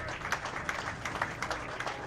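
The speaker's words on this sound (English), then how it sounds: "Bowling fans, how about a nice round of applause to kick off our squad this morning?" A crowd of bowling fans at the U.S. Open gives a steady round of applause to open a morning squad. The dense clapping is fairly faint and distant, with no voices over it.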